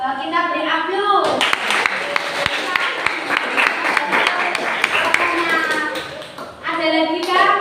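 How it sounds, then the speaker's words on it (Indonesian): A class of children bursts into steady, loud applause that lasts several seconds, with voices and chatter heard before and after the clapping. "Kalau sudah, kita beri aplaus."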